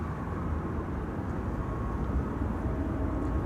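A German Airways Embraer 190 flying for KLM at Amsterdam Schiphol Airport produces a steady, broad low jet rumble that stays even and distant throughout, with no talk over it.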